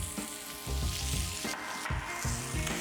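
A kimchi bacon burger patty sizzles in a hot pan with a dense, steady frying hiss and occasional low clunks, close and loud, with no talking.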